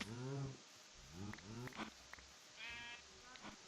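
Cows in the Minecraft video game call out in a few short, bleating, harmonic moos spaced across the moment, fairly close, with a quick click at the end.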